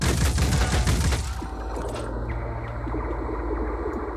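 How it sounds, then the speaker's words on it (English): Weapon fire in the video game Phoenix Point: a loud volley of rapid overlapping shots for over a second, then scattered sharp cracks and booms fading over a low rumbling tail. "Carry on shooting this thing."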